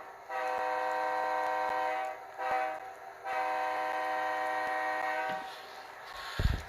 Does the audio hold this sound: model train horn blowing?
yes